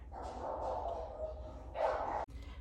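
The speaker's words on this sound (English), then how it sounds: "Oops, there's the dog." A house dog barks at a UPS delivery driver arriving at the door, steady muffled barking that carries on at a moderate distance with a louder burst near the end.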